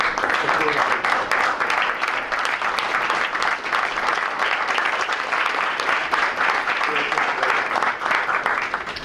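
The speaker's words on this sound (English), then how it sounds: "let's all give them a round of applause" A school board meeting audience applauds parents and family members, a dense, steady roar of many hands clapping that holds loud and even for the whole stretch, with faint voices mixed in.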